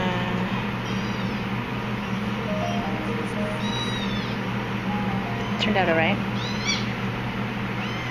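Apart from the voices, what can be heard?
kittens meowing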